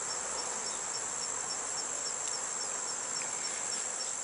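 Honey bees swarm and hum around a hive, a dense, steady high buzz that fills the air continuously with no pauses and no voices.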